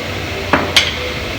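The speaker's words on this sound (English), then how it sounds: "I think we need a bigger hammer" Two sharp metallic strikes ring out in quick succession as a hammer hits the front axle shaft of a Ram 1500 truck, close and distinct over a low background hum.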